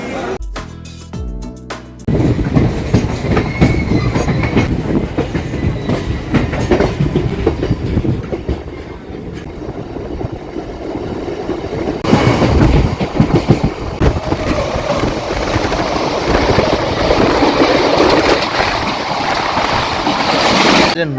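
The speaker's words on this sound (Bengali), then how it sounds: "আর ট্রেন এসে পৌঁছলো" The Howrah–Gaya Vande Bharat train, number 22303, pulling into Kulti station, with a loud close rolling rumble and clickety-clack of wheels on rails continuing for a long stretch.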